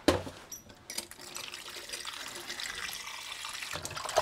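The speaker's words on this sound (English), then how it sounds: "You're making sure and give your meat for at least 3 washing, so that all the blood, water and everything will come out." Water from a tap runs and splashes steadily as raw pork is washed in a kitchen in Paramin, Trinidad, with a sharp knock at the start and faint handling noises throughout.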